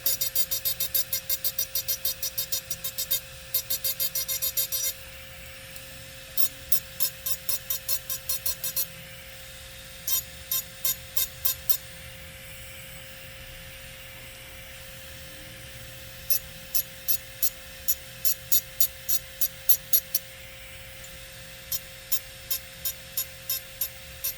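A rotary engraving bit works on an amber flip-top glass bottle with repeated short bursts of high, gritty buzzing, separated by pauses, over a faint steady hum.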